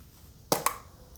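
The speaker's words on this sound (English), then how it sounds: "It's the sound of opening a snuff box or a snooze box." A snuff box clicks open with two sharp, close snaps about a tenth of a second apart, each short and bright, heard alone against a quiet background.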